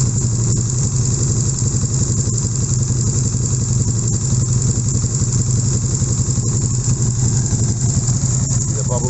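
A KTM 1290 Superduke motorcycle engine idling close by during a radiator refit, a steady loud low rumble with light mechanical clatter, holding even throughout.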